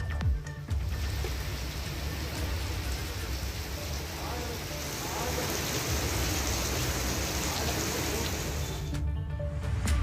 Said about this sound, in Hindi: बूंदाबांदी, कहीं हल्की बारिश की बौछारें।